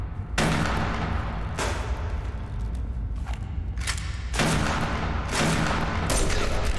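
Gunfire from enemies being dropped in the survival game Subsistence, set in a lava cave: several loud, broadband shot bursts in quick groups, with a brief spoken exclamation near the start.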